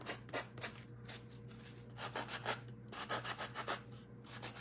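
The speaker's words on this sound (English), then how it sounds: "There's my sander. I need my little yellow one, but I'm just kind of gonna sand some of it off." A small handheld sander working over a wooden shadow box from a DIY alarm clock kit, a steady rasping rub in short repeated strokes with brief pauses, fairly quiet and close.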